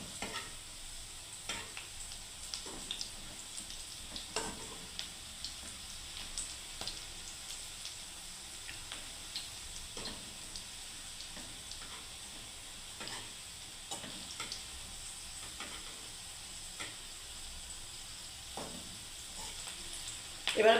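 Onion pakoras frying in hot oil give a steady, fairly quiet sizzle scattered with small crackles and pops, with no talking.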